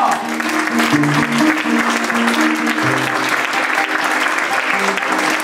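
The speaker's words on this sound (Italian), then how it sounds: "Applauso!" Steady applause from an audience, dense clapping throughout with some music or voices faintly underneath.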